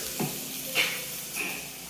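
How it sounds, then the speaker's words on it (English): Soft sizzling of vegan casserole ingredients frying in a pot, with a few brief bursts of stirring, quiet and close, no voices. "Just let those sizzle, like so."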